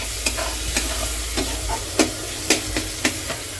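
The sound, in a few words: onion tomato tempering frying in pan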